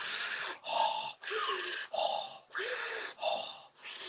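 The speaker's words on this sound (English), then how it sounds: "Really breathe now. Keep breathing." Deep, forceful breaths during a conscious connected breathwork session come in a steady rhythm of about seven rushing inhales and exhales, close and clear, with no talking.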